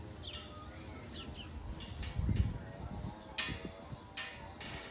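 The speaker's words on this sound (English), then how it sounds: "the birds are coming and taking a drink and they're screaming at me" Small birds call and chirp in a garden as they come to drink, with brief high calls scattered over a low rustling background and light handling noise.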